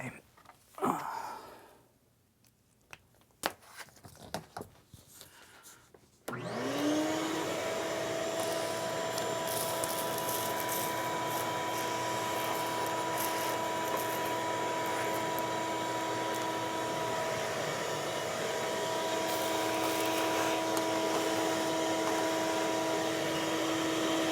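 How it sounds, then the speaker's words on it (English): A shop vacuum switches on after a few seconds of faint knocks and handling noises, then runs as a loud, steady whine and rush, sucking up metal drilling chips for the rest of the clip. "I'm going to run the vacuum to get a lot of those chips out of the way"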